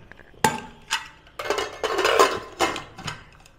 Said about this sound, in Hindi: हम बंद करके गैस पे रख देते हैं